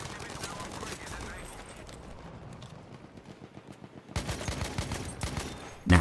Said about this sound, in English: Not many people give the MP34 the time of day, seeming like a pretty generic slow shooting SMG on the face of it